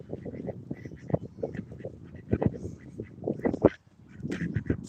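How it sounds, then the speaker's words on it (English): Domestic ducks quack in a busy cluster of short, overlapping calls near a fishing spot, fairly close and mixed with a person talking. "Ducks."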